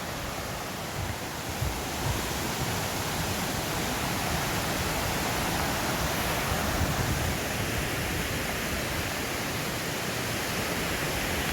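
Water pours over a mill weir in a steady, broadband rushing roar, continuous and fairly loud with no break over about twelve seconds.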